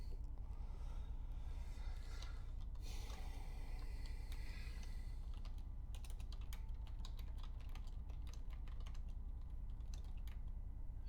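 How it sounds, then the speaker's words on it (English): Rapid clicky typing on a computer keyboard, irregular keystroke bursts running throughout over a low steady background hum. "I'm just typing Roborex as well."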